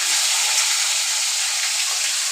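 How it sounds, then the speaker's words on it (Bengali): Fish frying in hot oil in a pan makes a steady, dense sizzle that is close and loud, with no break and no voices. "এই দেখো, আমি মাছ ভাজছি"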